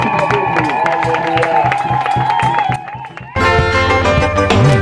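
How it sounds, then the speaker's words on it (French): A church congregation claps and cheers in praise amid loud worship music, the crowd noise mixing with voices before the music swells. "Applaudissez le Seigneur Jésus"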